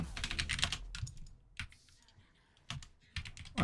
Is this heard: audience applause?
no